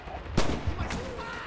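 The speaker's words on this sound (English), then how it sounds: "I'm already getting shot at." Gunfire in the video game Red Orchestra 2 on the Winterwald map: a sharp nearby shot followed by a second crack and fainter distant shots, with game ambience between.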